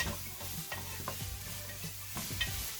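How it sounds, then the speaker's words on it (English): Onions and carrot sautéing in oil for stewed cabbage, a soft steady sizzle with occasional stirring scrapes, close and fairly quiet. "I am going to add 2 medium-sized onions, 1 medium-sized carrot, and I'm going to saute them a little too."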